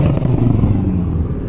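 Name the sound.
car engine revving at a Miami car meet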